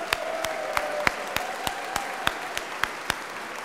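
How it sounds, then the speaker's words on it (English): Sparse applause from an audience at a public plan unveiling on the Mississippi in St. Paul, with individual claps ringing out at a slow, uneven pace over a faint background hum. "Big round of applause."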